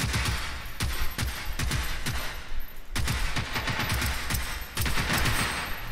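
Rifle fire rattles in the Generation Zero game in rapid, loud bursts of repeated shots, broken by a short pause near the middle and picking up again, with no talk over it.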